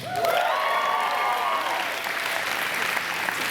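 A graduation audience applauds and cheers for a valedictorian speech, steady clapping from a sizeable crowd with a few rising whoops and voices mixed in, loud and sustained throughout.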